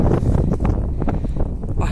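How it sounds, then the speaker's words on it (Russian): Steady wind buffets the microphone with a low, rumbling roar and gusty rustle throughout, loud and close. "Какой ветер."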